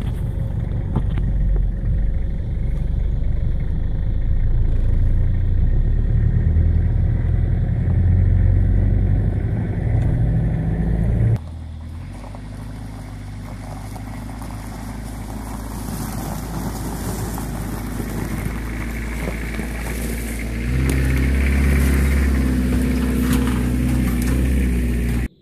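A farm truck drives along a bush track, its engine rumbling steadily and loud, with rougher road noise and a shift in tone partway through; no one speaks.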